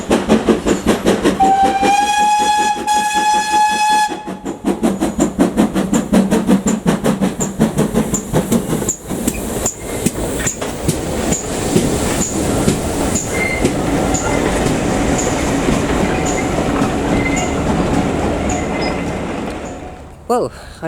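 Heritage service train hauled by locomotive 5552 on the Bodmin and Wenford Railway, climbing back up from Boscarne: a loud whistle blast, then steady rhythmic chuffing and rolling wheel clatter close by, carrying on alone for twenty seconds.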